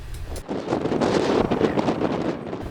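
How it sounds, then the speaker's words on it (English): Gusty wind buffeting a microphone at a locomotive servicing depot, a rough low rumble that swells and rolls for a few seconds with no speech. "It's a windy day in 2010"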